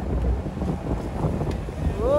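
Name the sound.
strong sea waves splashing against a boat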